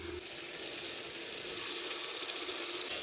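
Shrimp sizzling as they hit hot, well-fried spiced masala in a pan, a steady bright hiss that runs the whole time with no break, heard close and alone.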